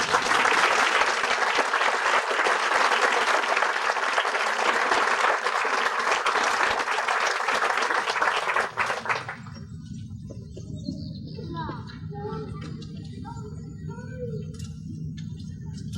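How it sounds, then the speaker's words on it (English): A high school graduation audience claps in a loud, sustained burst of applause for several seconds, then it cuts off abruptly, leaving quieter room sound and faint scattered noises. "will you please give a round of applause for Elder Keith"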